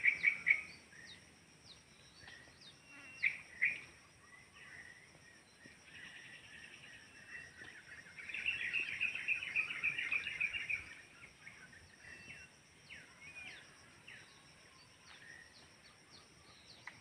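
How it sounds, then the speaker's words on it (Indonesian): Magpie-robins sing outdoors near an oil palm plantation, with faint, scattered whistled phrases and a longer bright trill mid-way over quiet insect hum. "Burung murai, kan? Banyak burung murainya."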